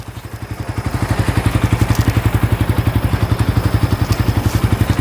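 A Suzuki GSX-R ABS motorcycle in fresh, stock condition idles close by, its engine pulsing in a steady, even, loud low thrum that holds throughout.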